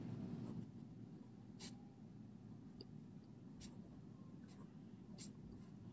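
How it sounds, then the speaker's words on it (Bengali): A pen writes on paper during a Class 5 math lesson, a few faint, short scratchy strokes spaced out over a low background hum. "আমি লিখে দিব"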